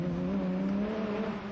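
The engine of a 1993 off-road race car revs steadily at Kempsey, a loud, continuous droning roar held close for the whole moment.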